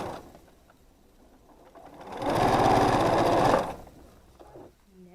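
Close sewing machine running for about a second and a half while stitching quilt seams on a rainbow star block from half-square triangles, a rapid mechanical whir that speeds up and stops, with quiet talk around it.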